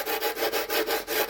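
Sandpaper rubbing back and forth over the fabric-covered leading edge of a model aircraft, a steady rhythmic scraping with about eight even strokes, close and moderately loud, no voices.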